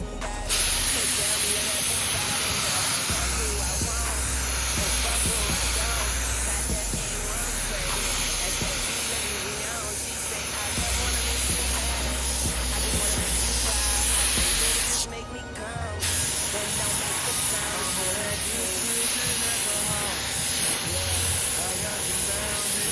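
A spray gun hisses loudly and continuously while misting a first coat of clear onto car parts during a VL build, stopping briefly once before resuming.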